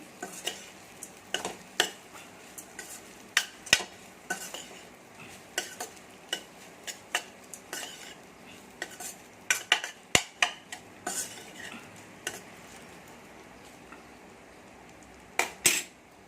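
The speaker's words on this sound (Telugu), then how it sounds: "వండిన అన్నం నెయ్యండి వేసి ఒకసారి బాగా కలపండి" A spoon stirs cooked rice with ghee in a pan, giving soft irregular clinks and scrapes against the metal over a faint sizzle, close and fairly quiet.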